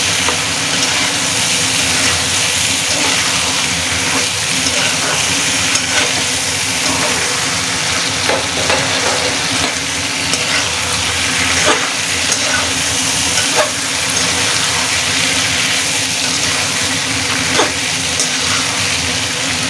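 Bottle gourd and potato pieces sizzle and get stirred through frying spices for a hilsa fish curry, a continuous close hiss with occasional scrapes of stirring.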